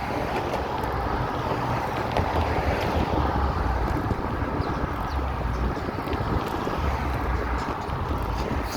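Steady, heavy headwind roaring across the microphone while bicycling on a Sanibel Island beach in Florida, a constant loud rumbling buffet with no break and no talk.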